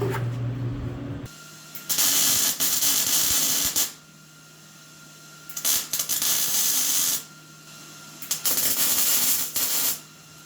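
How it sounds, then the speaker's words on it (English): Welding a steel plate onto a Datsun 280Z chassis, overhead, with several loud bursts of crackling, hissing arc noise of one to two seconds each, separated by quieter gaps with a faint background hum. "Welding upside down."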